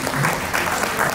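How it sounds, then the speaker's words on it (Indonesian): A crowd at a rock concert gathering in Toba claps in applause for a doctor being honored, a brief burst of dense, fairly loud clapping. "Tepuk tangan dulu Dr. Hica Panjaitan."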